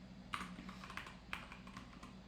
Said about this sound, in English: I'm gonna hit this command, but if I want, I can type